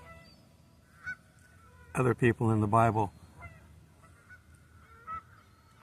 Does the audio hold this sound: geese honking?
yes